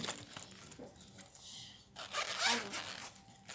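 The zipper on a pink bag rasps open in short scratchy bursts, close and fairly soft, with quiet handling noise between pulls.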